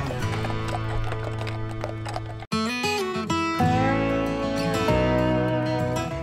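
Steady horse hoofbeats clip-clopping under music at the Kentucky Horse Park, with a horse whinnying in the middle; loud and close throughout.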